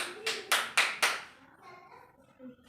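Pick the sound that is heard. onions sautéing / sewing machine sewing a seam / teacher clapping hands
teacher clapping hands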